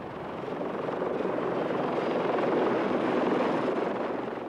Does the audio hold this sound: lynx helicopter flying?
yes